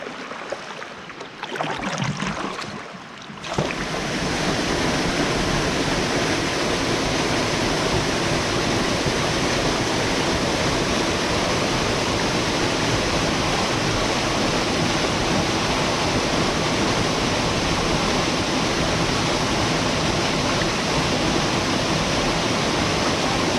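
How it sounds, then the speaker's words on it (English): A waterfall roars as a loud, dense, constant rush that swells in abruptly after a few seconds of quieter, muffled water and then stays steady to the end. "waterfall is amazing"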